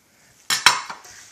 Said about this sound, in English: I'm going to mix this in there first before I add my black pepper and green onions.